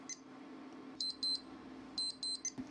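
A kitchen timer set for cooking quinoa beeps in short rapid bursts of three or four high tones, repeated twice with pauses, with a faint electrical hum underneath and no talking.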